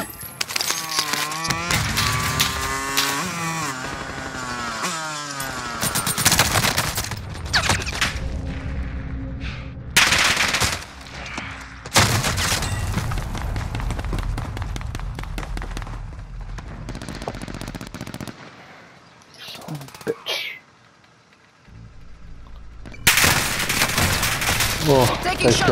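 Dense video game gunfire rattles through a multiplayer match in repeated bursts and sustained volleys, loud and close, with short lulls between firefights and a player's voice talking over parts of it.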